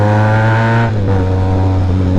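A Benelli TRK 502 adventure motorcycle engine, loud and close with a strong harmonic drone, dips briefly then climbs again as the revs rise, no voices.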